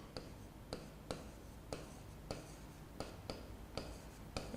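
Chalk or marker strokes on a board during a physics lecture on mirror formulas, sounding as a steady series of sharp, evenly spaced taps and scratches close by, with faint murmuring in the background.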